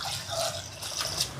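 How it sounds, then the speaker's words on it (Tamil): Water splashing and pouring into a cooking pot of washed lentils at close range, a short continuous liquid rush. "தண்ணி சேர்க்குறேன்"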